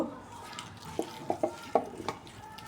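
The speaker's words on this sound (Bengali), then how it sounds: "এই যে মাছগুলা এখন আমি এগুলো ভালোভাবে মশলাটা মাখাই নিব।" Pieces of fish being mixed with spice masala by hand in a kadai, producing a handful of soft, wet slaps and clicks in an irregular rhythm over a quiet background.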